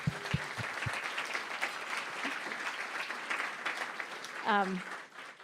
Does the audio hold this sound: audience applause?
yes